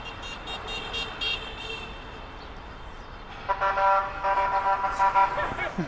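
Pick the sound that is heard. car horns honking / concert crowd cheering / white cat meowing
car horns honking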